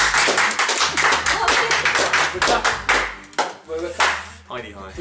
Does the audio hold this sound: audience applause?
yes